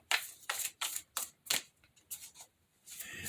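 Large, bulky tarot cards are shuffled in a quick series of crisp riffling bursts, about eight close-up sweeps separated by short pauses, with no talking.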